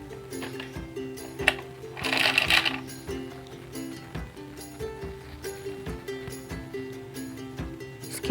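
A sewing machine stitches a trouser with rhythmic mechanical whirring and ticking pulses. A brief louder rattle sounds near the start, then steady repeated strokes at moderate volume follow.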